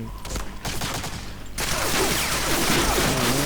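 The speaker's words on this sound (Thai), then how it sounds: "มึงเล่นเล่นป้อมปืนเหรอฮะ เล่นป้อมปืนเหรอ" Turret machine gun fire in Medal of Honor Breakthrough, starting with scattered shots and then a loud, sustained stream of rapid automatic fire mixed with explosive rumble.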